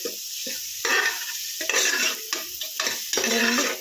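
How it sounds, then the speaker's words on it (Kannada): Sambar masala with turmeric frying in a pan, a steady close sizzle broken by repeated bursts of scraping and stirring with a spoon, no voices. "ಈ ಥರ ನೀಟಾಗಿ ಫ್ರೈ ಮಾಡಿಸ್ಕೊಳ್ಳೋಣ, ಚೆನ್ನಾಗಿ ಕಾಣಿಸುತ್ತೆ"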